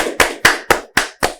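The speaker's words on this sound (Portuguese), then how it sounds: "Palmas para a mensagem da Fernanda" Studio audience clapping at the close of a podcast episode, arriving as five sharp, evenly spaced bursts of hand claps, loud and close with nothing else underneath.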